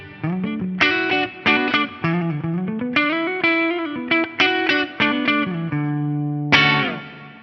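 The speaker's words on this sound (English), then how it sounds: "It is the concert hall reverb" Electric guitar notes and chords played in short phrases through a concert hall reverb effect on an FM3, each ringing out into a long, spacious reverb tail, with a final sustained chord fading away.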